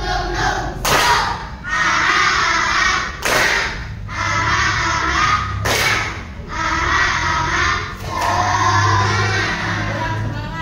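Children in an Indonesian primary school classroom clap a rhythmic 'tepuk semangat' chant, with bursts of clapping and chanted voices in repeated phrases separated by brief pauses, loud and close.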